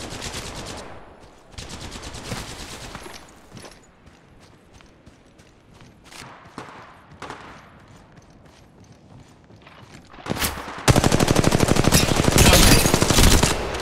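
Bursts of rapid weapon fire in Apex Legends Mobile, scattered volleys of varying loudness, then a sharp loud stretch of sustained automatic fire toward the end.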